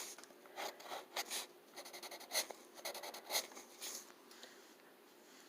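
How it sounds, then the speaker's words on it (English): Pencil drawing a lemon on paper: soft, steady scratchy strokes in short repeated bursts, close and quiet, with no talking. "You just want to draw the lemon."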